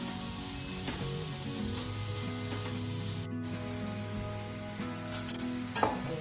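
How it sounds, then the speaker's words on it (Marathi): Carrot halwa being stirred in a steel kadhai, with continuous scraping and a faint sizzle under a steady hiss, plus a few louder scrapes near the end. "ही स्टीलची कढई असल्यामुळे याला कंटिन्यूली स्टर करावं लागेल, नाहीतर मग ही खाली लागतं."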